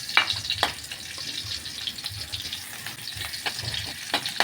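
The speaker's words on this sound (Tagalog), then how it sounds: "Unang igisa natin ang ating sibuyas mga idol, mga pobre." Onion sautéing in a pan, a steady soft sizzle with scattered sharp crackles and pops, close and fairly quiet, without talk.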